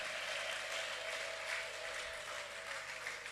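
A church congregation in a Kinyarwanda-language service ululates in praise, a sustained, dense, high trilling chorus of many voices that holds steady throughout.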